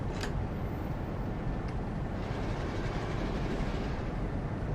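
A simulated train runs between Huddersfield and Leeds in Train Sim World 2, giving a continuous, even rolling rumble with faint rhythmic clatter and a couple of brief high squeals near the start.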